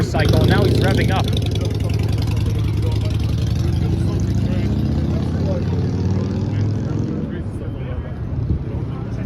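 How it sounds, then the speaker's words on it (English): A motorcycle engine rumbles loud and close on 42nd Street in Midtown Manhattan, a thick low roar that swells early and then holds steady over dense street noise and a voice. "this guy started up his motorcycle and now he's revving up"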